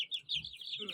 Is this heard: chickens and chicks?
yes